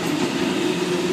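Sydney train passing at Strathfield station, a loud steady rumble and rush of rail noise filling the whole moment with no voices.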